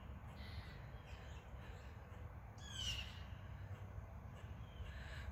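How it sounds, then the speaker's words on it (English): Crows caw faintly in the distance on a quiet outdoor walk, a few harsh calls rising over soft low background rumble. "Or maybe it's more birds and it's just a nest that I'm not picking up on."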